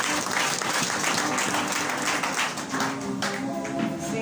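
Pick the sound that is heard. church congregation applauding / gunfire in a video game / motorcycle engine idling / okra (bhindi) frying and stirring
church congregation applauding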